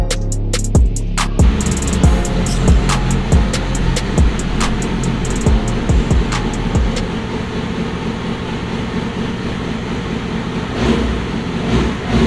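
A Yamaha R6 sport motorcycle running after detailing, its engine holding a loud, steady drone with sharp clicking pops early on and a few rising revs.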